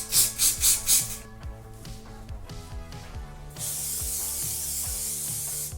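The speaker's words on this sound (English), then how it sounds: "I suggest that you use a strong hairspray for this one, especially if you have a fringe" Hairspray from an aerosol can is sprayed on hair in a few quick hissing bursts at the start. A long, steady spray follows later, with light rustling and handling sounds in between.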